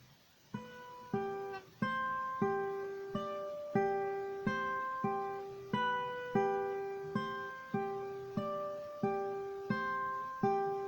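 A guitar plays a slow sequence of plucked chords and single notes, each ringing and decaying before the next, clear and close with no talking.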